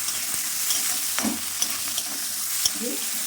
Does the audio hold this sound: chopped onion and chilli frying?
yes